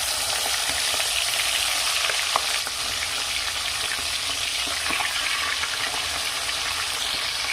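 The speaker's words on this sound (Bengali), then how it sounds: "আলু ভাজার তেলে আমি মাংসগুলো ভালো করে ভেজে নেব" Steady, loud sizzling of chicken frying in hot oil left from frying potatoes, with a few soft clinks and stirring noises throughout.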